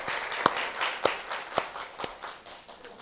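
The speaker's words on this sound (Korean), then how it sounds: "우리 박수 한번 할까요?" A church congregation at a Sunday service breaks into applause: a warm wash of many hands clapping, with a few louder, evenly spaced claps standing out before it fades.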